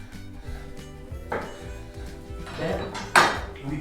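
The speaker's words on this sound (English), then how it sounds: "So we take the codfish, we cut in pieces like this." Knife cutting codfish into pieces on a board in a kitchen, with several soft dull chops and scraping knocks close by, ending in a sharper clatter.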